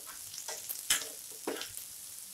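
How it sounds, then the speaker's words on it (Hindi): Faint sizzling of chopped onion and garlic frying in a pan, with occasional stirring scrapes and soft crackles, no voices. "अब इसमें हम कटा हुआ ऑनियन डालेंगे और इसे भी हम रोस्ट कर लेंगे"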